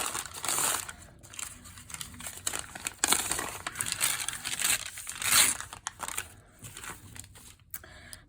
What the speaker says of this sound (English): I'm just gonna tore a piece of the craft colored material into something smaller and easier to work with.